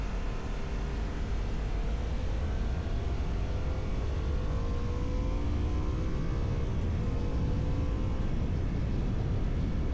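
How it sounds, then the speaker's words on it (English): A Harley-Davidson Sportster S motorcycle cruising at motorway speed up to about 70 mph, its steady engine drone mixed with heavy wind roar, loud and unbroken throughout with no talking. "Let's give the motorway test a try out then and see what this bike performs like."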